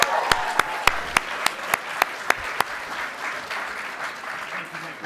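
An audience applauds at an animation conference keynote, with dense, steady clapping and several sharp, louder claps standing out in a regular rhythm, the applause tapering slightly toward the end.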